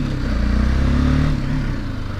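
A BMW 310 GS motorcycle engine running steadily up close with a low, throbbing idle that dips slightly near the end, with no voices over it.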